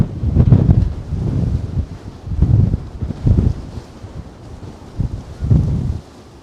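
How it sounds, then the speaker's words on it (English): Strong gusts at a waterfront pier in Manhattan batter the microphone in heavy rumbling bursts, rising and falling every second or so, with no talking. "It's way too windy for a hot cup of coffee with all this wind."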